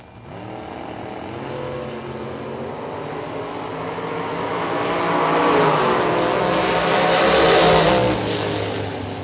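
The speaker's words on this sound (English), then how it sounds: "Reed in that black and green S10 pickup truck in the left lane" A drag race with a black and green S10 pickup truck in the left lane; a loud engine roar builds and swells as the vehicles launch and pass, then fades slightly, with no talk.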